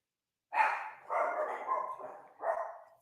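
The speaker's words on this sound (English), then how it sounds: "I got 2 dogs, by the way, a Pomeranian and a Shih Tzu." A Pomeranian and a Shih Tzu bark in several short bursts, one yap at first, then a longer run of barks and a final bark, fairly close and loud with no talk over them.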